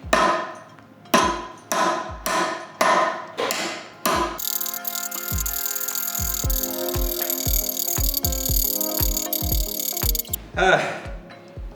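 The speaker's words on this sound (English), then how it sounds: "Now we're gonna hack our way through this 2x4 and test out the blade and handle." A Damascus Bowie knife hacks into a 2x4 board, giving a run of sharp, loud chopping thuds, then a ringing metallic clatter with lighter knocks before a few more hard chops, close by.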